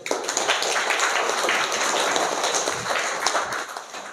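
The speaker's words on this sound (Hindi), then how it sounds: "बहुत अच्छा, ताली बजाओ सब कोई।" Schoolchildren in a government school classroom break into sustained, dense clapping together, a steady close patter of many small hands lasting several seconds with no voices over it.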